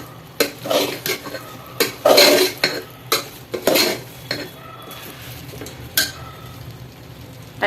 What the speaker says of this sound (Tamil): இந்த மீல் மேக்கர் வேக வச்சு வச்சுருக்கோம்ல அது இதில் போட்டலாம் இப்படியே அதில் போட்டு வதக்குங்க